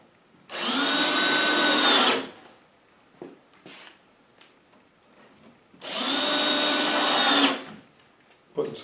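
A power drill drives screws into basement ceiling storage in two whirring bursts of about two seconds each. The bursts are separated by quieter knocks and handling noises.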